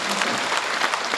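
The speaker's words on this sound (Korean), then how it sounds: "박수 한번 주셔야 되는데." An audience at a mayor's talk concert breaks into brief, dense applause, a continuous wash of many hands clapping at once that lasts about a second.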